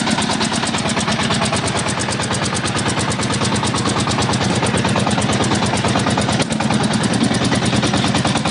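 A Shifeng 244 tractor engine running hard while ploughing, a loud, steady rapid chugging pulse from close by that continues throughout.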